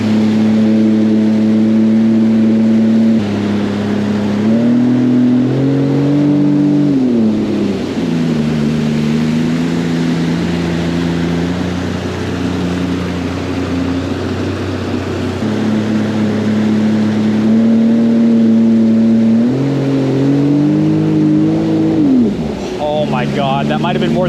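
A Sea-Doo FishPro Sport 170 jet ski runs at high throttle, its loud, steady engine drone rising and falling in pitch as it surges and eases, with wind rushing throughout.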